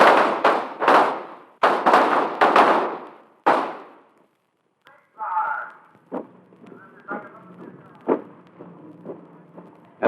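Small arms gunfire at a Navy recruit training firing range, a rapid cluster of sharp nearby shots over the first few seconds, then a pause before scattered fainter pops and thuds.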